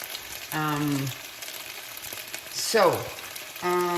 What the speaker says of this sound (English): Okay, so now that the meat has started to brown